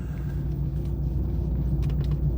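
A Dodge Charger Daytona R/T making a slow U-turn, heard from inside the car as a steady low rumble and hum, with no one talking.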